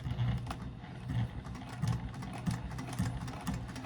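A sewing machine stitches a wristlet pouch strap, a steady close mechanical hum with rhythmic needle thumps repeating about twice a second, no voices over it.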